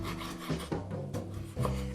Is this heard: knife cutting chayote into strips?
yes